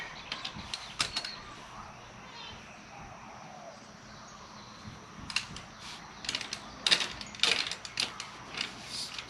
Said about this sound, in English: we're going to use this T-wrench to